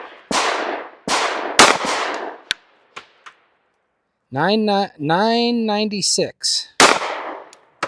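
A S&W Bodyguard 2.0 pistol fires .380 ACP Speer Gold Dot rounds in several sharp, close reports with ringing tails, spaced about a second apart, then a voice speaks briefly before one more shot cracks.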